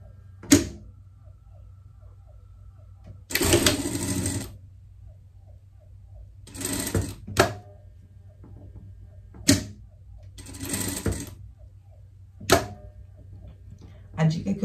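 A sewing machine with a thin Teflon presser foot stitches pompoms onto a pet harness in short bursts of rapid mechanical chatter, separated by quiet pauses and occasional sharp clicks.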